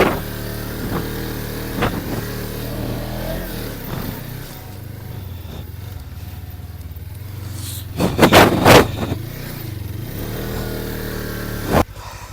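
A motorcycle stuck in desert sand near Derawar Fort, Bahawalpur, Pakistan, its engine idling and revving in uneven bursts, with a sharp cluster of loud revs partway through and another short burst near the end.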